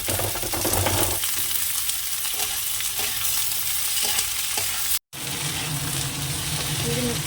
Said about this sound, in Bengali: এবার এটাকে একটু ভেজে নিয়ে আগে হালকা ভালো একটু নেড়ে নেবো